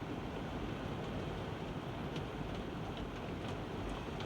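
Heavy rain pours steadily in a dense, unbroken hiss, loud and close, with no voices.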